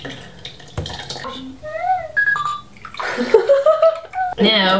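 Homemade butter being rinsed with water in a kitchen: splashing, sloshing and clinks of a utensil against a jar or bowl, close and intermittent, with people talking and exclaiming throughout.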